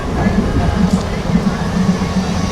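A train runs fast through the rain, its low, steady rumble punctuated by regular rhythmic thumps from the wheels on the track.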